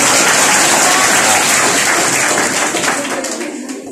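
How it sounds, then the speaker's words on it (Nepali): Students applauding in a school motivational class, loud dense clapping from a room full of people that gradually thins and fades toward the end. "खै त जोरदार ताली बजेको थाले"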